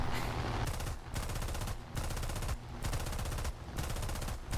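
British .303 caliber aircraft machine guns in War Thunder fire in long, loud, continuous bursts, broken by short pauses between strings of rapid shots.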